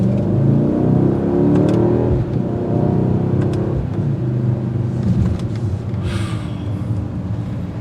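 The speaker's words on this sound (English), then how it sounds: "There's nothing like a bi-turbo AMG engine. It really screams from the exhaust note." A 2022 Mercedes-AMG GLE 63 S bi-turbo V8 in Sport Plus rumbles loudly and steadily throughout, its deep exhaust note rising and falling as it revs, with a brief whooshing hiss near the end.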